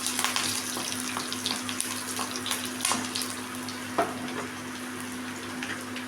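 Finely chopped green chilies and garlic sauté in a pan, giving a soft, steady sizzle with light stirring clicks close by.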